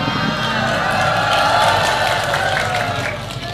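An audience at a humorous Islamic sermon claps and cheers in a sustained, lively burst, with scattered voices and whoops mixed into the applause.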